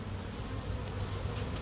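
Honey bees hum steadily at a hive entrance, a close, continuous low buzz with no voices.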